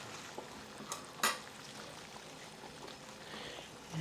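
Bok choy cooking in a pan with a tablespoon of vegetable oil, a soft steady sizzle with a couple of brief clinks and a sharper crackle of moisture hitting the hot oil, close and fairly quiet.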